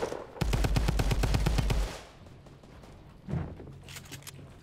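Rapid burst of automatic gunfire from enemy players in Fortnite, a dense run of shots lasting over a second, then quieter rumble and a brief second flurry of faint shots.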